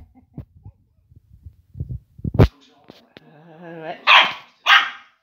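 Pet dogs at home bark and growl in close, loud bursts, with small yips and snuffles before two sharp barks near the end, mixed with a person speaking.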